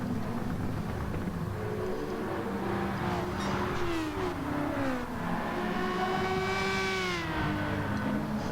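Racing car engines in Gran Turismo 7 while chasing a Volkswagen, with loud continuous engine whine that climbs and falls through gear changes and rev sweeps, with no talking.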